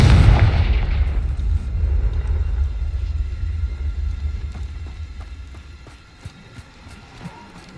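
Confringo explosion spell cast in Hogwarts Legacy: a loud blast at the start followed by a long rumbling decay, then sparse small pops and clicks as the noise fades.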